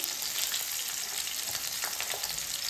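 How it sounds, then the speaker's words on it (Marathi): Chopped onion sautés in a hot pan with curry leaves and green chillies, giving a loud, even, continuous sizzle with no talk. "आता टाकलाय कांदा आणि कांदा चांगला परतून घ्यायचा"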